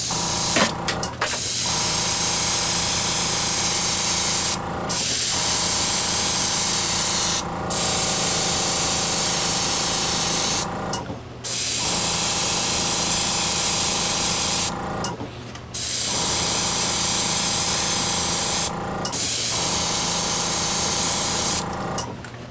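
Airbrush hissing out orange acrylic hobby paint in long continuous bursts, each lasting several seconds and separated by short pauses, steady and fairly loud with no talking.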